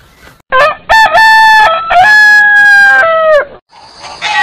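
A naturally raised country rooster crows loud and close, one long multi-part cock-a-doodle-doo lasting about three seconds, followed by a short clucking call.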